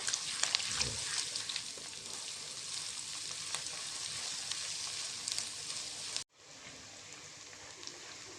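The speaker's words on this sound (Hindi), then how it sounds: "इसके बाद हम इसमें लहसुन अदरक का पेस्ट वो ऐड कर लेते हैं और इसको अच्छे तरीके से भून लेते हैं" Garlic ginger paste fries in hot oil in a pan, giving a steady, dense sizzle that runs close and loud for about six seconds, breaks off briefly, then resumes slightly softer, with no talking.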